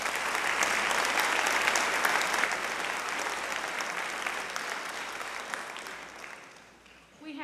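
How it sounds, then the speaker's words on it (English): An audience at a junior high spring band concert gives a long round of applause that stays steady and dense before tapering off, then a voice begins speaking at the end. "So I would like to give them a round of applause for a sweepstakes band."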